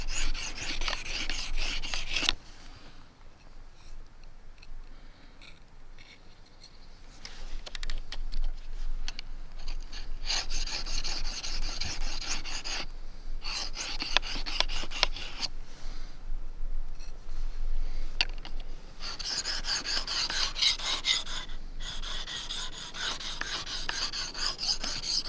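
A blade is drawn across the coarse side of a sharpening stone in a bushcraft setting, giving loud, close, gritty rasping strokes in quick repeated bursts with brief pauses between runs, and no talking.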